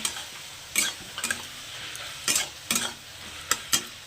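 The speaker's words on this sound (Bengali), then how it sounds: "লবণ আর হলুদটা দিয়ে এটাকে ভালো করে মিশিয়ে নেব" Taro greens being stirred with salt and turmeric in a pan, heard as a light background sizzle broken by about eight sharp spatula scrapes and clinks at irregular intervals, close and fairly crisp.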